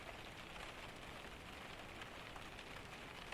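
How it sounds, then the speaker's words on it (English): Steady rain drums on a cabin roof in a Scandinavian forest storm, a dense, even hiss of countless drops that holds constant and close throughout with no voices. "Rain on the roof."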